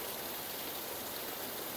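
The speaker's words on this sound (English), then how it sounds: "Look at that rushing water." A rushing mountain stream beside the Appalachian Trail gives a steady, broad hiss of flowing water, faint and continuous with no voices.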